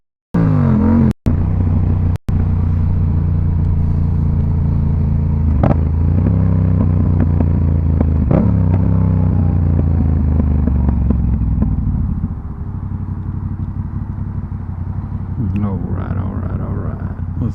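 A Yamaha MT07 motorcycle exhaust rumbles close by with a deep, steady engine note and a few throttle swells, then settles to a quieter idle near the end. Speech is heard at times over the engine.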